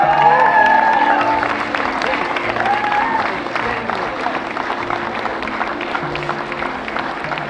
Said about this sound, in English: please another round of applause for 3 amazing athletes